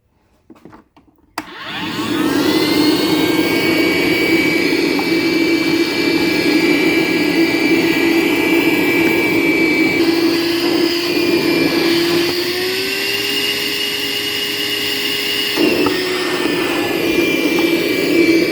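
A DeWalt 2.6 amp vacuum cleaner switches on after a brief moment of quiet and runs with a loud, steady whine and roar throughout, its pitch shifting slightly partway through.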